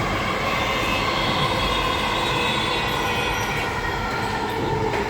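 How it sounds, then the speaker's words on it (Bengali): A metro train runs close by an apartment balcony in Gulshan, a steady loud rumble of rail wagons with faint clicking and wheel noise, continuous throughout with no talking. "মেট্রো দেখতে পাচ্ছেন, মেট্রো স্টেশনের একদম কাছে"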